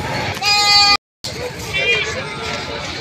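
Goats bleat loudly nearby, one long wavering cry then another fainter one, with people chattering in the background.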